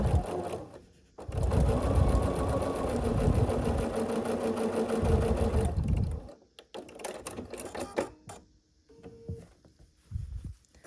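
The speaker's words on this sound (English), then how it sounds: "we're just going to sew on this just like we did before" A sewing machine stitches the corners of a quilt block in one steady mechanical run of about five seconds. After it stops there are softer fabric and handling sounds, with a brief hum near the end.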